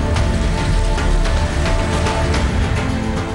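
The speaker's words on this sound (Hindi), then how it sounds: "3 दिन से लगातार बारिश हो रही है।" Heavy continuous rain during days of flooding in a Madhya Pradesh town, a loud, dense, steady downpour hiss with scattered drop impacts and no talk.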